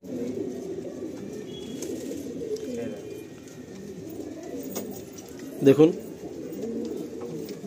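A pair of Kaldam Madrasi pigeons coos softly and repeatedly nearby, with a louder burst of cooing late on, while someone talks over them.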